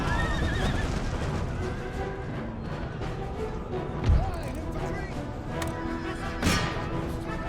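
Horses neigh and whinny during a cavalry charge in the battle game Empire: Total War, with hoofbeats and a dense, steady din of fighting underneath and two louder thumps standing out.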